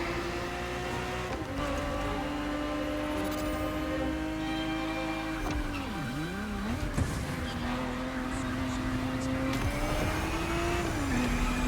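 Ferrari car engine in The Crew: Motorfest, a steady mid-pitched drone that holds, dips sharply with a quick gearshift wobble, then settles and rises again, fairly close and continuous with no voices.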